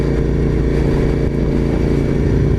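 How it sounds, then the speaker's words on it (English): A motorcycle engine runs loud and close in a steady, rough mid-pitched roar that holds without pause for the whole short stretch. "It's a different bike. It's a different sound."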